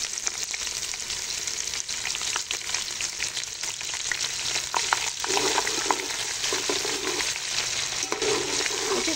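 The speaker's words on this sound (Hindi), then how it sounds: "यहाँ पर मैं ये जो मैंने 2 प्याज चॉप किए थे वो डाल दूँगी।" Chopped onions fry in hot mustard oil for a vegetable pulao, a steady close sizzle with the crackle of stirring and no voices.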